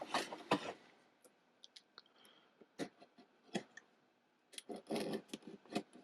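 Scissors snip and cut through tape on packages from Japan holding Star Wars merchandise, giving scattered sharp clicks and rustling bursts, close and moderately loud, with no talking.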